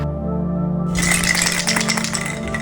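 A spray paint can rattles as it is shaken vigorously on the street in Bogotá, Colombia, the metal ball clattering in a rapid steady rhythm over a low background hum.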